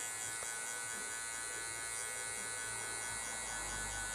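Electric hair clippers run while cutting hair in a mohawk fade, a steady high-pitched motor buzz with a fine whine, continuous and fairly quiet.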